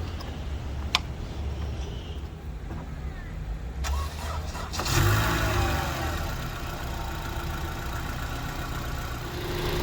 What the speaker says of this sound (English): Let me get this car started.